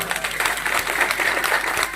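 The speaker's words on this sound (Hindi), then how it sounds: "समर्थन करते तो जोरदार ताली बजा जरा" A rally crowd in Umaria district claps loudly and steadily, a thick, continuous burst of applause close by with no pause.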